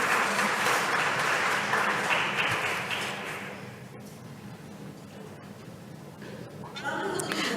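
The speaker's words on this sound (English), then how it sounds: "A round of applause, yes." Seminar audience in Buenos Aires breaking into applause: a dense wash of clapping that is loud for about three seconds and then thins and fades, with a few scattered claps and a voice starting near the end.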